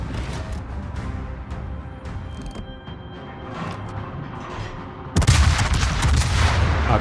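Naval guns fire in a warship game battle against the Stalingrad, a series of sharp booming shots over a rumbling background, ending in a loud, sustained blast of heavy fire.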